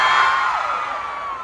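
A crowd of fans shrieks and cheers at a fan event, a dense, loud wash of high voices that fades gradually across the moment with no clear speech.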